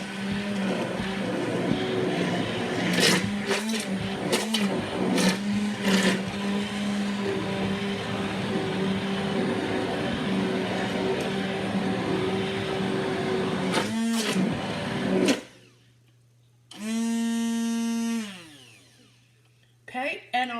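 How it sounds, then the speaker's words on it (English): A loud whirring immersion blender blends strawberry jam for about fifteen seconds with small bursts and clunks, then stops; a voice speaks afterward over a low hum. "So I'm going to use my immersion blender."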